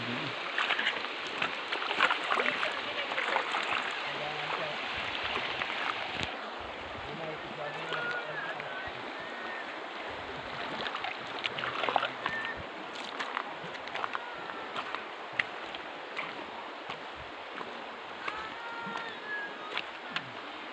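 The Karag River flowing and splashing on a farm outing, a dense continuous rush of water that fills the whole clip, close and steady, with a voice speaking over it.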